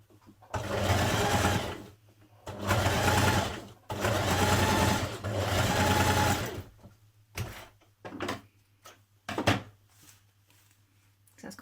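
A sewing machine understitches through all layers of a trouser pocket seam. It runs in four strong bursts of steady whirring, then gives several short, quieter starts and stops with clicks. The machine is close and heard on its own.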